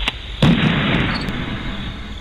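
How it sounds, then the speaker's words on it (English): A shotgun loaded with buckshot fires a single loud, close blast, a sharp crack with a rolling boom that decays over about two seconds. "the sound of a shotgun full of buckshot"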